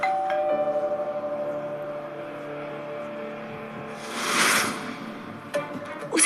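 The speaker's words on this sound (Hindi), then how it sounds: "अगले ही पल फिर से डोरबेल की आवाज आई।" A doorbell rings indoors with a sustained electronic chime tone that fades, followed by a brief rushing noise and a few faint clicks.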